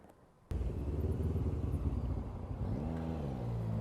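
A motorbike engine catches with a sudden start, rumbles unevenly for a few seconds, then sputters and wavers as it dies, close and fairly loud.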